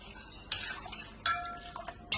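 Jaggery juice stirred in a vessel with a spoon, heard as a few quiet clinks and scrapes against the metal, spaced out and close.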